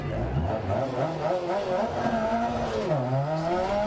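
The supercharged engine of a Lancia Delta S4 rally car in the video game DiRT 2.0 drones loudly and continuously, its pitch rising and dipping through gear changes and throttle shifts.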